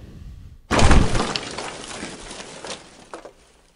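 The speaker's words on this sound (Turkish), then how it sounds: "Hatta şimdi vuracağım, taş kırılacak." A Nokia 3310 phone strikes and breaks a stone, giving one sudden loud crack and shatter followed by a short rattle of falling fragments that fades within a few seconds.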